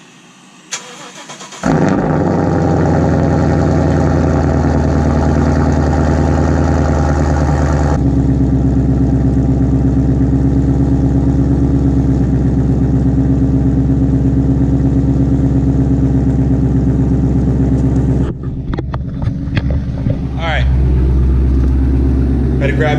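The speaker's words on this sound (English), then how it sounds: "Let's cop this cold start." Ford Mustang cold start: a brief crank, then the engine catches with a loud flare and settles into a steady, loud rumbling idle, which changes near the end as other noises come in.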